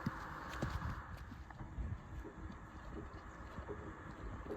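Hooves of a horse on a ranch clip-clop faintly at a walking pace, a quiet irregular patter of steps with outdoor background and no talk.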